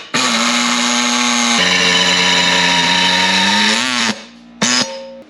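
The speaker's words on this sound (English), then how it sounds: "So I drill the hole in the corner right here" Power drill drilling a hole in a custom gas tank whirs loudly and steadily, its pitch dipping under load for about four seconds, stopping, then a short second burst.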